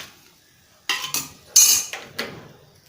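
Freshly cooked wheat parotta being lifted from the pan onto a plate, heard as a few sharp metallic clatters and scrapes of utensil against cookware, close and fairly loud, with no talking.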